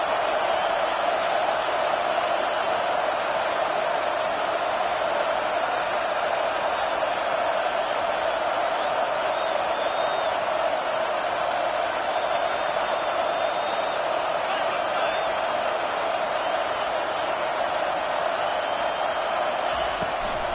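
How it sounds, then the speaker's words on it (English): A loud home stadium crowd at a college football game roars steadily as the defense lines up on third down, a dense, sustained wall of cheering noise that never lets up. "Decibels rising as the crowd gets behind this defense on third down."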